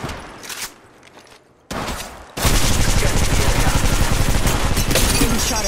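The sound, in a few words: gunfire in Apex Legends Mobile video game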